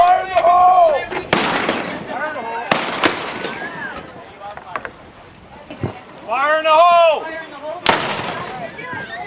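Children firing weapons at a pirate festival, heard as several loud, sharp blasts spaced a few seconds apart, with people talking and calling out between and over them.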